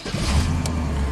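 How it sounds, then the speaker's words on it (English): A 1996 Chevy K2500 pickup's V8 engine catches and fires up, a short burst of cranking and a low rumble that settles straight into a steady idle, close and fairly loud. "Let's fire it up."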